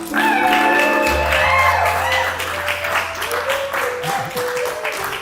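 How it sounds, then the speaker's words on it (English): A live comedy-show audience breaks into a loud round of applause for a performer, with shouts and whoops mixed in, sustained for several seconds before easing under crowd murmur. "So please put your hands together, give a warm round of applause for Johnny SiZZle."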